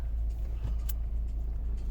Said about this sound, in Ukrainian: чітко заводиться автомобіль